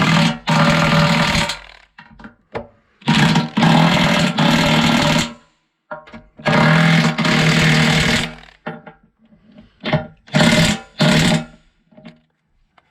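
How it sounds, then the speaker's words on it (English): DeWalt impact wrench tightening bolts on a skid steer bucket, heard as several loud rattling bursts of a second or two each, separated by pauses and short taps, close by with no talking. "or a impact wrench like this one. This is a DeWalt."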